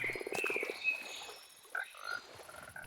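A Minecraft frog croaks in the video game: a quick run of rapid, rhythmic croaking pulses, then a few softer chirpy croaks. It is fairly quiet, with no speech over it.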